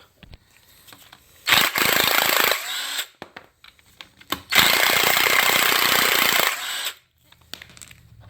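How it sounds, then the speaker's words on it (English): Dual mass flywheel bolts are broken loose on a Fiat 500 1.4L turbo MultiAir engine during teardown, with two loud, rattling bursts from an impact tool, each lasting a second or more, separated by quieter clinks and shop noise, with no speech. "we're going to go ahead and get our dual mass flywheel off of here and get these to break loose"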